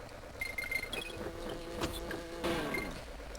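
Bees from the SNES platformer Donkey Kong Country 2 buzz continuously at moderate level, a steady insect drone with a few brief swells, with game music and effects underneath.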